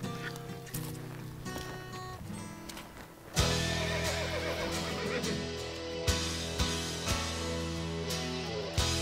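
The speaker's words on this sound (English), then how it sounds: "we can saddle some horses and head up there" Horses neighing loudly and repeatedly, with sharp whinnies standing out over background clatter and hoof sounds, close by in an outdoor hill setting.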